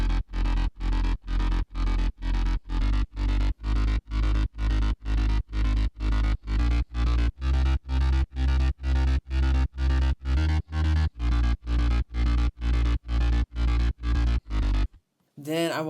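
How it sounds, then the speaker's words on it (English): Layered synth basses built in Ableton Live for a remake, pumping together in a steady, loud run of rapid evenly spaced chopped pulses with deep low end for about fifteen seconds, alone, ending abruptly. "All bass together sound like this."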